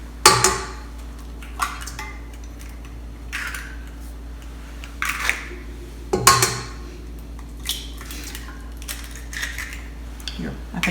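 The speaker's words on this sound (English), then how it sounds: "so all 4 eggs, we'll put them in," Whole eggs dropped one after another into a KitchenAid stand mixer bowl, giving a few sharp clinks and taps against the bowl, close and fairly loud, spaced across the moment with quiet kitchen hum between.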